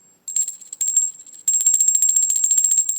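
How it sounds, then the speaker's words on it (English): A small, high-pitched bell used to signal game time rings loudly and rapidly, its tinkling strikes starting in short bursts and then running into a steady, continuous peal. "this bell means game time"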